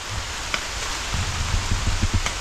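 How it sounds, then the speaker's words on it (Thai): Rain pours down in a forest campsite, a dense, steady hiss of drops with faint low thumps underneath, close and unbroken. "ฝนเทลงมาแล้ว"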